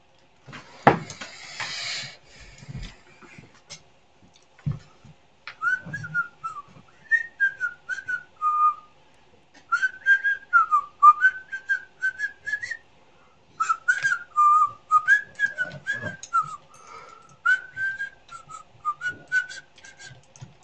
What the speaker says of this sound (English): For those of you who couldn't tell, I can't whistle.